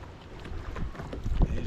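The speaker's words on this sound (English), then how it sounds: "That wind's picking up a tad a little bit." Wind gusts at the coast during inshore bass fishing, a rough, buffeting rumble against the microphone that swells louder toward the end, close and continuous with no talking.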